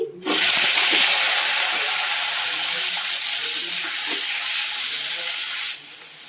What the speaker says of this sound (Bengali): তেল গরম হয়ে গেছে, পটলগুলো দিয়ে দিচ্ছি।